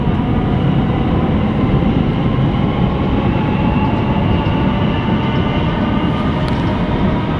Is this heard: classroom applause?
no